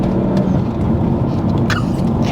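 A BMW M240i fitted with an MST intake, engine laboring loud and close with a steady growling drone throughout, no voices over it.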